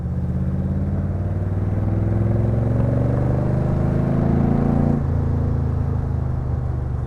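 A Crendon Cobra's engine pulls with a rising, rumbling drone that climbs steadily, then drops and shifts to a new pitch through a 4-speed gearbox, heard from inside the car.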